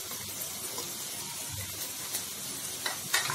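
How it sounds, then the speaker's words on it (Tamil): Green beans, carrot and cabbage fry in a pan with a soft, steady sizzle, marked by occasional stirring scrapes and a couple of sharper clicks toward the end, without speech. "இப்போ வந்து வெஜிடபிள்ஸ் கொஞ்சம் ஃப்ரை ஆயிட்டு இருக்கு."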